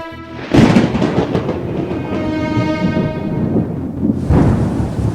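Thunderstorm with rain in a Bengali cartoon, a loud rumbling crash with a roaring wash of storm noise and a second burst near the end, without talk.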